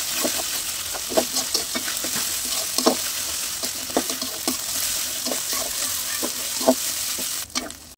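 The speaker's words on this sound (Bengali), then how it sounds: "এগুলো তেলের উপর খুব ভালো করে ভাজবো যাতে এক্সট্রা কোনো কাঁচা গন্ধ না থাকে।" Ginger and garlic paste frying in oil gives a constant loud sizzle, broken by regular scraping strokes of a spoon stirring the pan; no one speaks.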